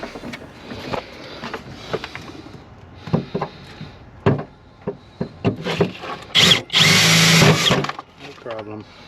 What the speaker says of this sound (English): we drill this mount hole.